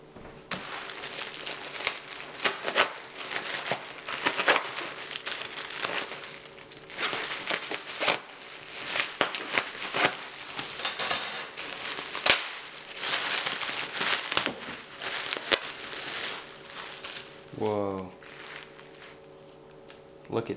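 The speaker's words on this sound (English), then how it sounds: "let's unwrap it" Unwrapping a mailed package holding a used motorcycle silencer for an 85, with repeated crinkling and tearing of wrapping in quick bursts, fairly close, and a short voice near the end.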